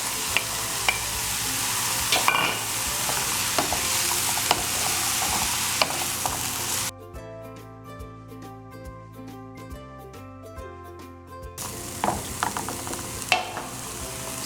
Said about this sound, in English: Now I'm going to add my onions.